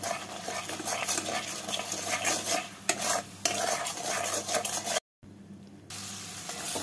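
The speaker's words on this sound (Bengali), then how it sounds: "মশলাগুলোকে কষিয়ে নেব।" Garlic paste, salt and turmeric being stir-fried in a pan for hariyali murg masala, a dense, steady sizzle under repeated spatula stirring, briefly cutting out before resuming, with no speech.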